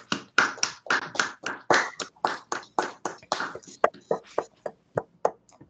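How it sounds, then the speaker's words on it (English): A handful of webinar participants clap, heard as sharp, separate, uneven hand claps in a loose rhythm that thins and spaces out toward the end, close and fairly clear. "give Gabriel, Clarence, and everyone who was involved in the handbook a big round of applause"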